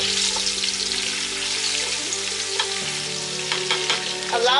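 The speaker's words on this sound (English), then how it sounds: "Allow that to fry, just caramelize a little bit." Onions frying for party jollof rice, a loud continuous sizzle in a pot with scraping stirs and occasional spatter, close and alone without talk.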